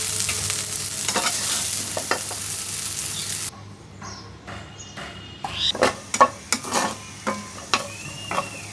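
Oil sizzles steadily in a home cooking pan, then quieter frying is broken by a run of sharp, irregular scrapes and clacks of stirring, close and fairly loud, with no talking.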